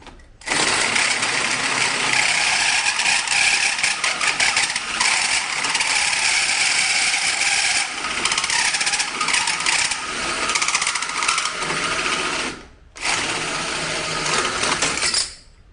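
A hole saw grinds through the sheet metal of a car hood in a long, loud, harsh whir that dips briefly partway through, then resumes before stopping, close up with no talking.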